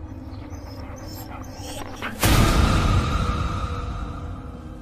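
A dog panting and whimpering close by, quick soft breaths and small whines, then a sudden loud burst of noise cuts in and washes over it.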